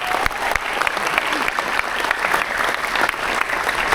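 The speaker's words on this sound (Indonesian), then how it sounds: "Tepuk tangan yang meriah." Loud, steady applause from a crowd at a completion ceremony, dense clapping filling the whole stretch without pause.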